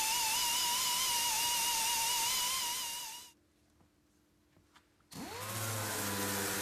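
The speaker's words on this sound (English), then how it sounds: "Paint is removed quickly and efficiently from the damaged area with a 3M 245 P80 green disc on a gear-driven machine." Gear-driven sanding machine fitted with a 3M 245 P80 green disc stripping paint from a damaged car panel, a loud whining grind that stops for about two seconds of near silence, then spins back up to full speed.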